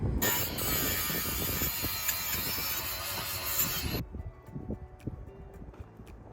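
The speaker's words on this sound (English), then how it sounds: "I'm just screwing it down." A power driver screws down a sealed floor panel in an MCI bus under conversion, a loud continuous whirring ratchet for about four seconds that then stops, leaving scattered clanks and clicks.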